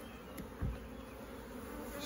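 Honeybees buzz around an open single-brood-chamber hive in mid-July, a faint, steady droning hum with a brief closer pass of a single bee.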